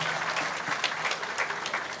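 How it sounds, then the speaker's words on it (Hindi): Audience at a dedication ceremony claps loudly in welcome, a dense, steady wash of many hands that stays even for two seconds without voices. "तो एक बार जोरदार तालियों के साथ"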